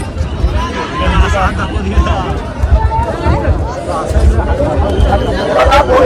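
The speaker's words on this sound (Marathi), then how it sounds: "ही गर्दी तुम्ही बघू शकता" A large crowd gathers for the 6 June 2024 coronation ceremony of Chhatrapati Shivaji Maharaj, a constant loud hubbub of overlapping voices and shuffling movement close around the listener.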